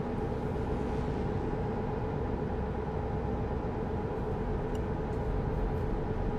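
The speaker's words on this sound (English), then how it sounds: "Hey, train!" A train in the video game Euro Truck Simulator 2 passes with a steady, loud rumble. Mixed into the rumble is a continuous low drone of road and engine noise, with no talk.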